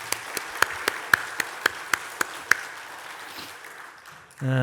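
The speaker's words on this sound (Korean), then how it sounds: "모든 수고하신 분들에게 우리 감사의 박수 한번 치도록 하겠습니다." A church congregation at a Sunday service claps in thanks, a series of evenly spaced single claps standing out above a soft wash of applause, fading before a louder sound cuts in at the end.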